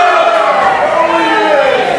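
A large wrestling crowd at a pro wrestling show chants in unison at a wrestler named Dio, a loud, sustained sing-song roar of many voices echoing through the venue.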